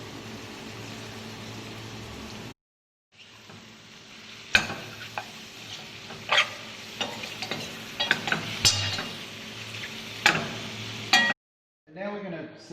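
Cured pork loin and mushrooms sizzle in a pot with its fat rendering, a steady hiss broken by sharp scrapes and clatters of stirring, close and fairly loud, with brief silent gaps.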